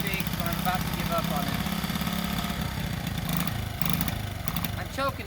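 A choked John Deere 750 tractor engine, fouling plugs and running rich, chugs with an uneven low rumble, steady and close, while someone talks over it.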